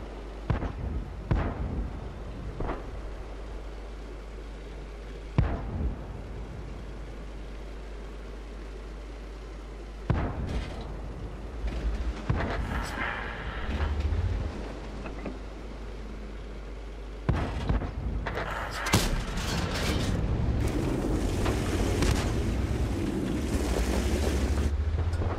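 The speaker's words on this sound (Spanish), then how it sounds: "Estoy disparando a un tanque a 150" Tank cannon fire in the World of Tanks video game from a VK 28.01 105 shooting at a distant tank, several sharp, heavy blasts spaced a few seconds apart over a low rumbling background, growing busier and noisier toward the end.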